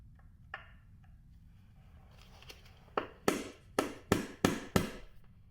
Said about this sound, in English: You're going to give it 1 to 2 small hits.